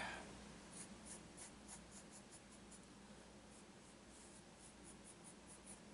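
A hard, light 2H graphite pencil sketches an eye outline on paper, giving soft, close scratchy strokes in a quick repeating rhythm over a quiet background, with no one speaking.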